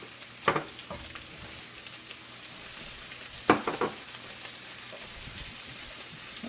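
Shrimp fry in a pan with a faint, steady sizzle, broken by a couple of brief utensil clatters against the pan.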